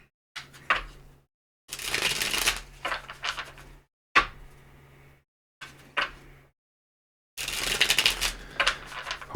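Tarot cards being shuffled in bursts of riffling and slapping, close and crisp, separated by short silent pauses, with no talk.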